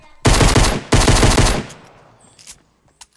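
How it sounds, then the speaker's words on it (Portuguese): Automatic gunfire in the video game Fortnite, two loud, close bursts of rapid shots, each close to a second long, followed by fading echoes and a few faint pops. "Vocês estão atirando, né?"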